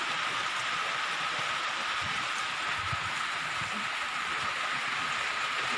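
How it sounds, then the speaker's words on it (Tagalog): Steady rain falls in a garden, a constant dense hiss of drops with faint low patters on nearby surfaces, unchanging for several seconds and heard alone without voices. "Maulan kasi."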